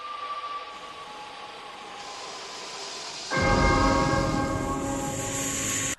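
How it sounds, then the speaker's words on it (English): A low ringing tone hums at first, then a resonant bell or chime swells in suddenly and sustains, loud and reverberant, with no talking. "A chime or bell is heard as the room changes."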